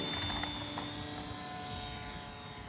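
Jabberwocky model airplane, about 516 g, launching and flying with a steady high electric motor whine and propeller buzz holding close and loud, no voices.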